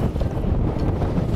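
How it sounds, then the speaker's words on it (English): Strong wind buffets the microphone on a bass fishing boat during a tournament, a loud, continuous low rumble with a faint wash of water, and no talk. "it's kind of windy"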